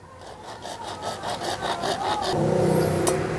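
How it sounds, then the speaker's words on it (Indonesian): A hacksaw rasps through the metal of an outdoor air-conditioner unit in quick back-and-forth strokes for about two seconds, then a louder, smoother whirring takes over. "tinggal pakai gergaji besi kayak gini, terus kita gergaji aja sampai dia terpotong sebagian"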